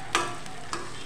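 Raw prawns frying in tomato masala paste in a pan, a soft sizzle with two brief stirring scrapes.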